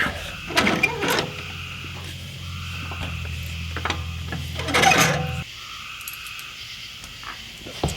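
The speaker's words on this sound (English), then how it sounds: "now it's time to roll this sucker back in place. We'll jack it up and bolt it in." A transfer case skid plate is jacked up into place under an off-road vehicle, with a low mechanical hum, a couple of loud scraping metal clunks and creaks as the plate shifts, then quieter background.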